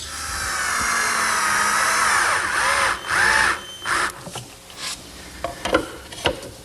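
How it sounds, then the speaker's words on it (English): Power drill driving screws to attach a base to a desk top in a woodworking shop, a loud whirring run for several seconds followed by shorter bursts and clatter, close up. "Well, now I'll center the base on the top and attach it with some screws."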